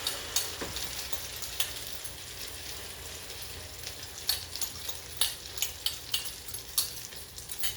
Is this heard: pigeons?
no